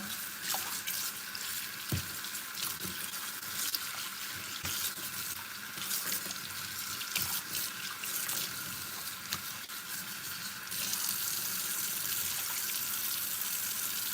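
Water runs steadily from a tap while dyed 613 blonde hair is rinsed, a continuous hiss and splatter with small drips and knocks, slightly louder toward the end, with no talking.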